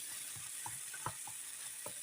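A tomato, cashew, poppy seed and dried coconut puree sizzles in oil in a pan for a mushroom curry, a soft steady fry with faint irregular pops and spoon scrapes, quiet and without talk.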